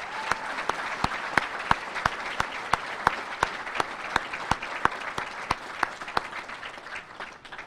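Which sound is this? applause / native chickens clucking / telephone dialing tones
applause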